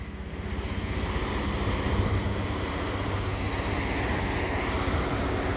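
Waves lap steadily at a shore with a constant rushing wash and some wind noise, fairly loud and close, with no one speaking.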